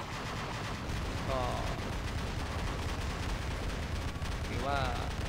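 Heavy prototype weapon in the War Robots video game, a dense continuous rattle of rapid fire with low booming impacts, loud and unbroken throughout, with brief electronic tones rising over it twice.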